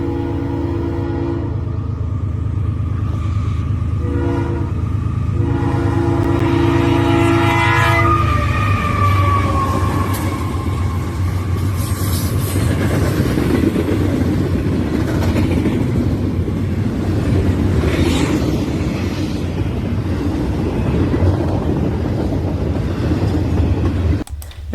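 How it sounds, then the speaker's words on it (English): CSX I003 freight train led by locomotive CSX 1776, heading north toward Chicago, sounds its horn in loud sustained tonal blasts at the start, then rumbles past steadily with continuous wheel and engine noise. "Next up we have CSX I003 with CSX"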